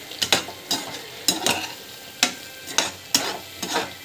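Raw banana slices fry in a pan with a continuous hiss, broken by repeated sharp scraping strokes of a spatula at a roughly regular pace, close and prominent, with no voices.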